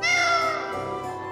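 A single close, loud cat meow from the video game Tales of Vesperia, bright and tonal, sliding downward and fading out, heard alone.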